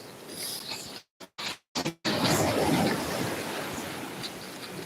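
Ocean surf rolls onto a Florida beach in a broad, rushing wash with wind buffeting the microphone, broken by a few short dropouts before a fuller wave surge carries on steadily.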